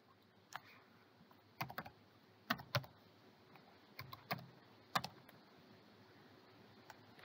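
Someone types a password on a computer keyboard while signing up for a digital library account: a short, irregular run of crisp key clicks in small clusters, close but quiet, with no voices.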